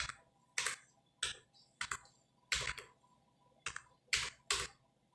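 Fingers tap keys on a computer keyboard while an online form is filled in, giving irregular bursts of crisp close clicks separated by short pauses.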